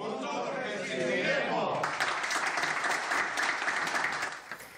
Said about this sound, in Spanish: Cada tarde los internos despiden la jornada con un aplauso a los sanitarios y equipos de seguridad que nos protegen en esta crisis.